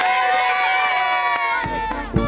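Marathon spectators cheering and shouting along the course, a close crowd of excited voices with whoops and sharp claps in a short lively burst.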